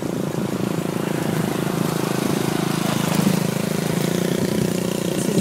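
A motorbike engine idling on a village road in Bali, a steady low mechanical putter with a constant hum running the full few seconds, close and moderately loud, with no talk.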